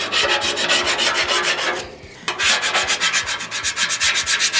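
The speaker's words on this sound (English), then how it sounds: "The thing is you've got to scrape the sides too." Metal scraper rasping rust off a rusted flattop griddle, loud steady back-and-forth strokes close up, pausing briefly midway before the rhythmic scraping resumes.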